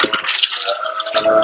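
Liquid being poured after sieving grated coconut for homemade coconut oil, a steady bright trickle and splash filling a container for about a second and a half, close and fairly loud with no talk.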